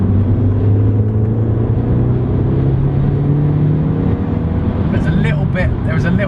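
Audi S3 8L pulling hard in third gear from 3,000 RPM, a loud, steady engine drone with rising tone filling the cabin, a brief crackle and chatter near the end.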